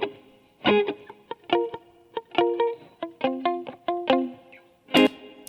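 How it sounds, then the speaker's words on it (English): Guitar processed with reverb whose rhythmic decay pulses between strikes, tightened by an FET compressor; short plucked chords ring in a choppy, stuttering pattern, loud and close with no voice. "It's a nice little reverb rhythm going on here."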